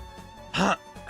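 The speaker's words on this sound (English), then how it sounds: "I'm like coughing in the background." A person coughs once in a short, harsh burst close to the microphone during an online Mahjong Soul game session, with faint background noise before and after.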